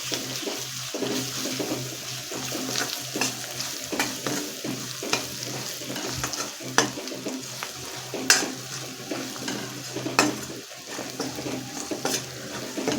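Garlic and coconut with ginger-garlic paste sautéing in a pan, a continuous close sizzle broken by repeated spatula stirs and scrapes, with no talking.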